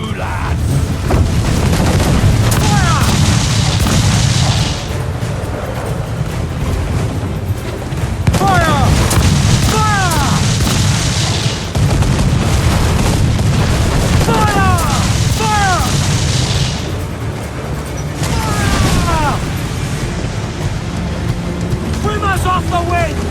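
Heavy booming broadsides from a pirate ship's cannons in Assassin's Creed IV Black Flag, repeated deep blasts over constant wind, sea and crew shouting, with a voice yelling orders throughout.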